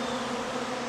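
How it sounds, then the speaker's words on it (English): Honeybees buzz at the entrance of a very active backyard beehive, a dense, steady drone of many wings, close and continuous with no voices. "The bees are extremely active in this beehive."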